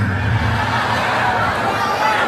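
Steady crowd murmur of an audience waiting before a stage performance by Islamic boarding school students in Bireuen, a dense continuous babble of many voices with no single speaker standing out.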